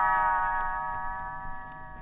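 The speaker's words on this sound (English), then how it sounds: "You will know it is time to turn the page when Tinker Bell rings her little bells like this." Small tinkling bells chime in a clear ringing cluster that slowly fades over about two seconds, standing alone as a signal to turn the page of a storybook.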